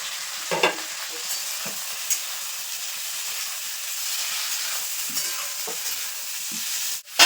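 Capsicum tossed into a pan with carrots and peas for vegetable fried rice, a steady close sizzle broken by a few scraping stirs and knocks, ending in a sharp clatter.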